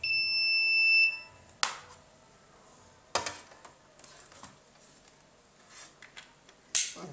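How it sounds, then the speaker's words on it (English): A security camera's motion alarm beeps in a steady high tone for about a second, followed by a few sharp clicks and knocks in a quiet room. "The camera has detected a motion."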